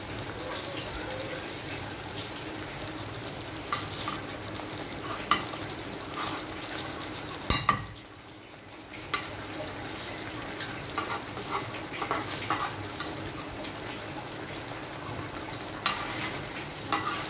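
Ghee is stirred into a doi potol curry (yogurt and pointed gourd), producing a soft continuous sizzle with intermittent scrapes and clinks of stirring and a brief pause midway, while a voice speaks quietly at times.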